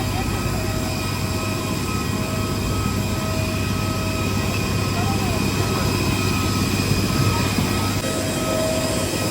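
An IndiGo airplane at an airport gives a steady loud engine drone and whine with a low rumble, continuous and nearby, with voices faintly mixed in.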